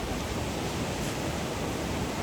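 Ocean surf breaking at a beach during a surfing competition at Varkala, heard as a continuous, steady broadband wash with no distinct individual wave crashes and no voices.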